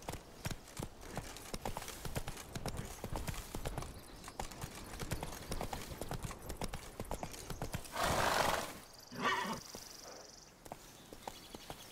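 Roach the horse galloping in The Witcher 3, rapid hoofbeats pounding close and loud, followed by a clear neigh near the end.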